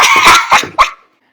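A dog lets out three quick, loud, close barks in succession, the last one sharper, then silence follows.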